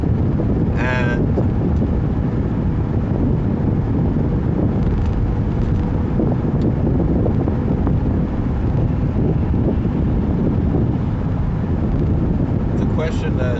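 Steady, loud low rumble of road and wind noise inside a car driving at night, continuous throughout with no distinct events.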